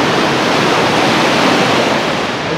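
A waterfall on the island of Java, Indonesia, gives a loud, dense, steady roar of falling water. The rushing sound is constant and close throughout, with no voices.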